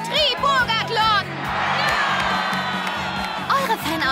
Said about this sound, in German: Ja, Applaus für den Triburgathlon!